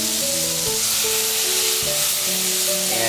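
Wine hits a hot paella pan on a Weber grill, producing a loud, steady sizzle and hiss that fills the whole moment without a break, with faint tonal sounds underneath.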